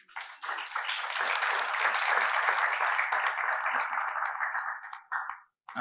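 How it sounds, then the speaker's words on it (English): Audience applause at an IEEE Jamaica gathering, a sustained wash of clapping lasting about five seconds at moderate level, then breaking off briefly before resuming. "let's give them a round of applause"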